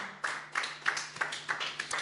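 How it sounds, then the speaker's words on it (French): Brief, light clapping from a church congregation applauding the Lord, about eight distinct claps in an uneven rhythm, fairly soft and close, over a steady low hum with no speech. "Kann man den Herrn erstmal einen Applaus geben?"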